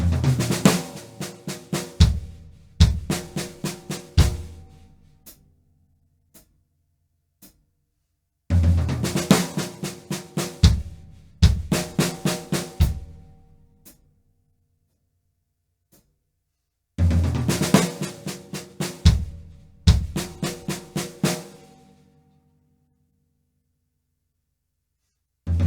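A slow drumset fill played on snare and drums with double stroke and seven-stroke rolls, repeated three times as dense bursts of hits with crash-like accents and pauses between phrases, close and clear, with no talking.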